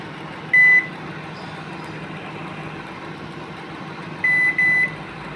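A microwave oven hums steadily while making chira bhaja (fried flattened rice), with one electronic beep near the start and two more beeps near the end.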